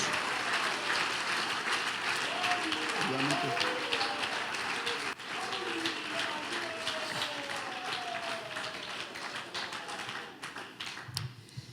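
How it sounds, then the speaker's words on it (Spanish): Congregation applause during a Christian sermon, steady clapping over a background of voices and tonal sounds, fading off toward the end. "Si le vas a dar ese aplauso, dáselo fuerte."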